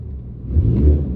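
A BMW 330e fitted with an aftermarket valved exhaust backbox gives a brief, light throttle blip, a low engine rumble swelling slightly and holding steady, close by with no talking.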